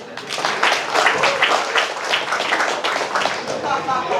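Audience at a stand-up comedy roast of regional council members breaks into steady clapping and applause, a dense sustained burst filling the room for several seconds.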